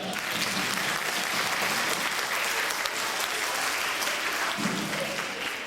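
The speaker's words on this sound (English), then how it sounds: "Let's give these volunteers a big round of applause" Steady audience applause for volunteers fills a school event at PS 5 in Port Morris, Bronx, a dense wash of many hands clapping at even loudness throughout, with faint voices underneath.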